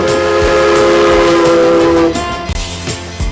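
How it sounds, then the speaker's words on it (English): The Durango & Silverton narrow gauge steam train in Colorado sounds its whistle at a street crossing, a loud, steady chime lasting about two seconds, followed by rhythmic rumbling and clanking of the cars on the track. "Whistles for each street crossing are answered by waves from townspeople all along the track."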